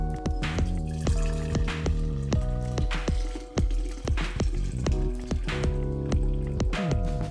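Brewed tea strained into a container, heard as a close, continuous stream of wet drips and squishy liquid sounds with soft clicks.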